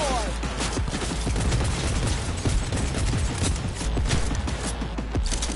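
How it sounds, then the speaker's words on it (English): Rapid overlapping gunfire bursts from a firefight in Cyberpunk 2077 on PS4 Pro, dense and continuous with heavy low booms throughout, loud and close. "Who else is shooting us?"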